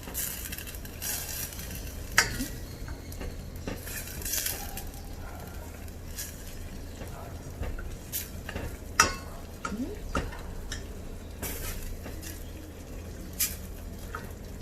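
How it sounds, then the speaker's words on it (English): Tomatoes cooking in a pan for tomato rasam: a steady low sizzle runs throughout, broken by intermittent sharp clinks and scraping stirs of a utensil against the pan, close and fairly quiet, with no talking. "You have to wait for the tomatoes to cook a little."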